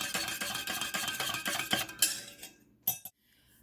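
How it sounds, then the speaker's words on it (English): A spoon stirs sugar into iced coffee in a glass, rapid clinking taps repeating closely, then a couple of final sharp clinks before going quiet. "I'm just going to stir it."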